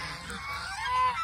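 Ducks and ducklings on a duck farm just after hatching give short, nasal honking calls, a few overlapping in quick succession, fairly close and clear over a quiet background.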